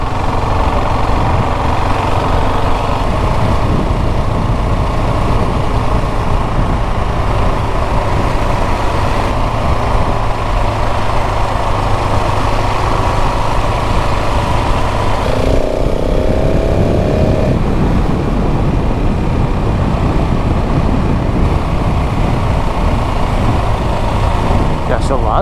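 A KTM 690 SMC R motorcycle with its LC4 single-cylinder engine being ridden, a loud, close, raw engine roar that holds steady under heavy wind noise, with a brief shift in pitch partway through.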